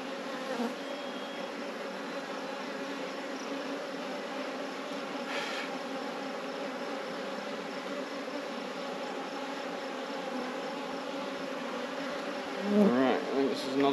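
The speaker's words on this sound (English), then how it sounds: "Lots of young light colored bees." Steady, dense buzzing of many honey bees close by at an open hive during a split, a continuous drone with a brief louder rustle near the end.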